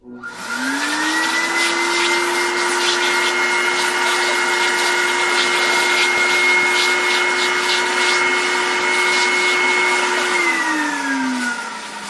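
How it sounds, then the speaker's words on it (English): A Desiderio Plus bed bug fogger runs its vacuum along baseboards, a loud steady whine that spins up, holds evenly for about ten seconds, then winds down, with no talking. "to use the vacuum feature as mentioned before, you very simply just press the white button and go along the baseboards very slowly"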